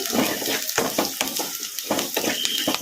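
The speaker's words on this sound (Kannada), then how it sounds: "ಉಳ್ಳಾಗಡ್ಡಿ ಬೇಗ ಫ್ರೈ ಆಗ್ತವು" Onions with salt frying in a pan, close sizzling broken by rhythmic stirring scrapes and light clinks of a spoon, repeating every half second or so.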